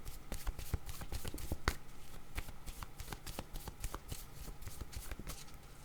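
Tarot cards shuffled in a steady, continuous rapid flutter of close, soft slaps and snaps, quiet and without voices.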